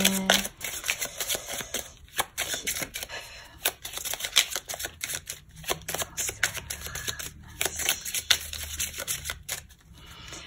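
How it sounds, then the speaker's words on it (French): Tarot cards are shuffled by hand in close, crisp bursts of rapid riffling and flapping, with brief pauses between rounds and no speech. "je coupe et nous allons donc tirer les cartes"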